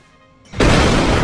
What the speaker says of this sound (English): Here, I'll edit another explosion here.